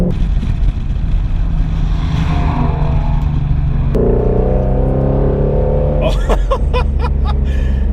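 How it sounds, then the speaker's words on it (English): A 2016 Shelby GT350 Mustang's engine roars loudly and continuously, its pitch climbing through a rev and dropping sharply before rising again, ending in a rapid burst of crackling pops. "It's amazing how this thing revs."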